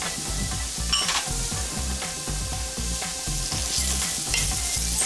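Garlic and onion fry with curry leaves in a pan, a continuous bright sizzle with rhythmic stirring scrapes and occasional utensil knocks, close and steady with no talking.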